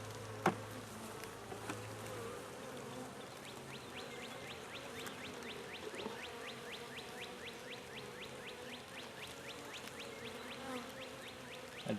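Honey bees from a new 2022 package buzzing over built-out comb on a hive frame, a dense continuous droning hum close by and fairly quiet, with a few faint clicks and no talking.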